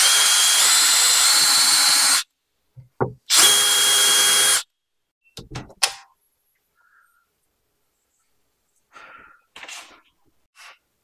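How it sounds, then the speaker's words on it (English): A power drill with a 7/16 bit whines at high speed in two bursts of about two seconds each, boring pilot holes in metal, followed by a few faint clicks and light metallic taps. "We're gonna use our 7/16 drill bit to get a couple pilot holes started."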